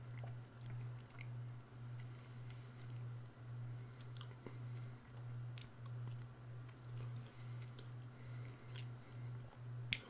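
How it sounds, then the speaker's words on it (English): Quiet, close chewing of spicy chocolate with soft wet crunches and mouth clicks, heard alone for about ten seconds under a steady low pulsing hum. "I'm subconsciously chewing it to try and get rid of it"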